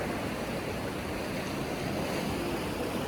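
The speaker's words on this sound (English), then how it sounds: "praying with the sound of the ocean." Steady ocean surf washing onto the shoreline beside a mosque, a continuous dense roar of breaking waves with some wind, loud and unbroken throughout with no voices.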